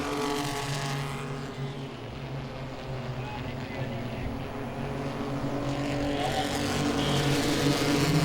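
Pro 6 race cars racing at Langley Speedway, a continuous engine roar that dips and then swells louder toward the end as cars pass, heard at a distance with a commentator talking over it.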